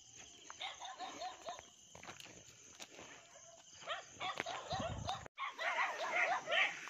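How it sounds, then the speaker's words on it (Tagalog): Several dogs barking at night in a rural Philippine setting, repeated distant and mid-range barks in irregular bursts over a constant chorus of crickets and insects. "Daming aso guys."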